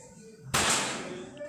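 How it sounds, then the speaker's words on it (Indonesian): A single sharp shot rings out from an air rifle firing a Hercules pellet, a sudden crack followed by a short decaying tail, with faint background sound before it. "Ini barusan kita tembakin di sini satu peluru."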